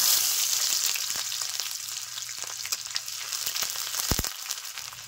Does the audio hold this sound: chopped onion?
yes